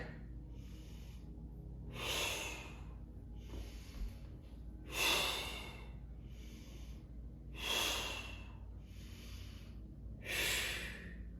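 Deep, slow breathing during a yoga flow: four strong, breathy exhales and inhales at roughly three-second intervals, close and fairly quiet, with softer breaths between them.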